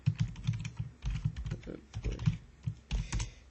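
Code being typed on a computer keyboard, close up, with rapid, irregular bursts of clicky keystrokes and short pauses between runs, and no voice over it.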